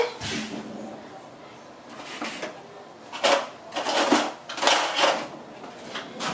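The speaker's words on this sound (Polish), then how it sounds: "Kawę rozmieszam" A spoon clinks and scrapes against a cup while stirring coffee in several quick bursts, close by, with pauses in between.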